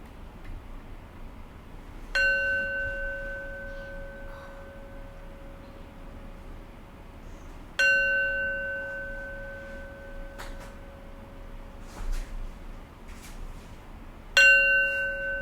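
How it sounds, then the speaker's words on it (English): A meditation bell is struck three times, each a clear ringing tone that sustains and slowly fades before the next strike, with faint small taps in between. "So ring the bell 3 times."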